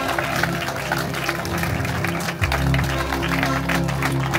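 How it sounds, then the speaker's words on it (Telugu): An audience at a God's Way Mission gathering claps loudly and continuously as someone comes forward, with voices mixed into the applause. "మరి ముందుకు వస్తుండగా అందరం చప్పట్లు కొడదాం గట్టిగా"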